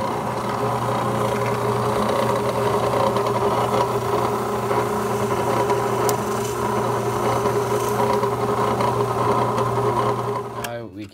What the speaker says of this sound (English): Now we have the hole drilled through